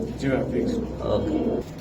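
Pigeons for sale coo in a low, steady murmur close by, continuous through the short stretch with faint background voices.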